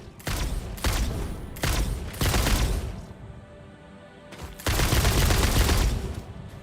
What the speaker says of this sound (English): I love this thing. Homing ammo is amazing.